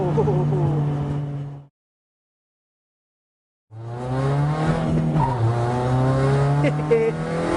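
A Skoda capable of about 227 mph runs at high speed with loud, steady engine roar and tyre noise, cut off by a two-second gap of silence before the roar returns just as strongly.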